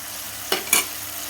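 Marinated chicken for a chicken gravy curry in a hot pan, with two quick stirring scrapes and a bright sizzle over a steady frying hiss, close and short.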